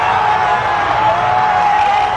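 A big stadium crowd at an India–Pakistan cricket World Cup match roaring after a tied game, a dense loud sustained wash of cheering and whoops that never lets up.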